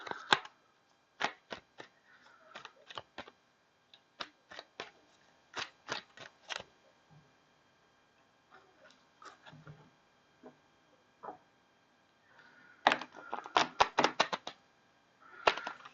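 Tarot cards being shuffled produce bursts of crisp riffling clicks and taps, alternating with quiet pauses, close and fairly soft with no talking.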